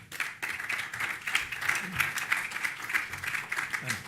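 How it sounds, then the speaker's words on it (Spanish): An audience at a university conference on electronic voting claps for an arriving presenter, dense steady applause lasting about four seconds with no talk over it. "Un fuerte aplauso entonces para don Gustavo Navalón"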